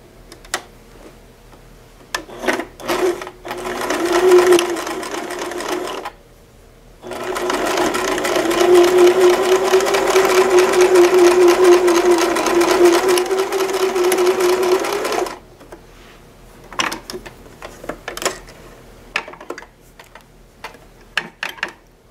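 A sewing machine stitches a seam across a fabric penguin, whirring in two sustained runs of several seconds each, separated by short pauses and followed by scattered clicks and handling taps.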